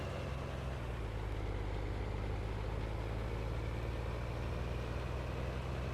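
Steady low rumble of a truck engine idling in Farming Simulator, a constant close drone with no speech over it.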